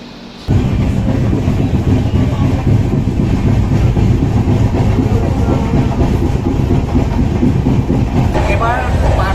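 The Tamralipta Express AC train, Howrah to Digha, pulls away from Mecheda and settles into a loud, steady rumble of wheels on rails, with a rhythmic clatter heard from close on board.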